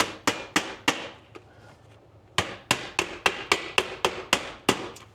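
A hammer drives 1.5-inch stainless steel ring nails into metal drip edge, giving sharp, close, evenly spaced strikes: a quick run of blows, a short pause, then a steady series of about ten more.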